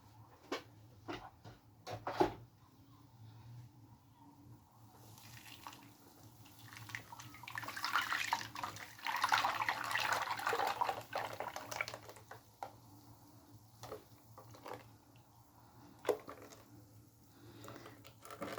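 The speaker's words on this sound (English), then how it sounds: "You're gonna pour it in this bowl, and you're gonna cover it with foil." Milk smoothie mixture pours into a bowl with a steady, splashing liquid rush that swells in the middle, with scattered drips and taps before and after against a low background hum.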